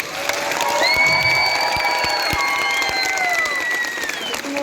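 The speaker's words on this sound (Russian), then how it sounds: "Ваши аплодисменты сегодня так вдохновляли нас." A hometown concert audience in Ufa applauds a Bashkir band: loud, dense clapping with cheers, mixed with sustained musical tones that rise and fall over a few seconds.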